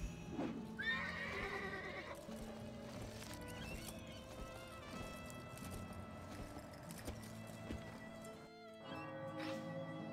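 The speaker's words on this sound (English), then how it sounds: "I'm gonna use this horse." A horse in the video game Pirate101 whinnies near the start, then hooves clip-clop steadily under a layered game soundtrack with scattered effect sounds.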